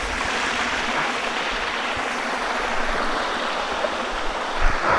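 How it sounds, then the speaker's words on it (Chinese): A small stream flows steadily beside an abandoned Japanese shrine, a continuous broadband rush of water close by with no voices, holding an even level throughout. "你看这条小溪"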